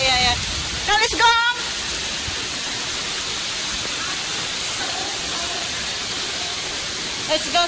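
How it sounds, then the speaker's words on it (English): Heavy rain pours outside in Singapore, making a dense, continuous hiss that fills the clip, with a couple of brief clatters near the start and end. "you can see guys outside how heavy rain it is"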